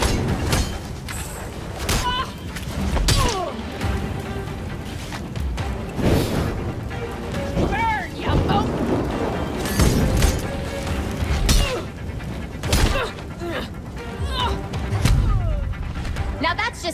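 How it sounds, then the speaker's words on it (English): Fireworks burst repeatedly in the Gotham Knights video game, sharp cracks and booms scattered throughout amid game effects, with voices talking over them. "Enjoying the fireworks."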